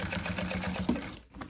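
A sewing machine stitches a synthetic travel toiletry bag backed with nonwoven fabric, giving a close, quick run of rhythmic needle clatter for just over a second before it stops.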